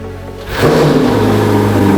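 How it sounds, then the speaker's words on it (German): Audi Nuvolari car engine firing up: a short starter crank, then a sudden loud catch into a rough, revving idle that holds close and strong. "Was jetzt kommt als nächstes ist der Motorstart."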